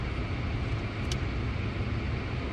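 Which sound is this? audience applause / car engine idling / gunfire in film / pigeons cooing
car engine idling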